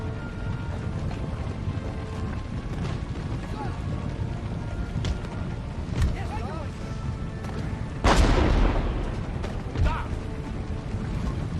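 Artillery fires at a fortress gate in the strategy game Empire: Total War, a dense battle din of cannon booms and rumble, with one loud, sharp blast standing out near the end over steady mechanical clatter.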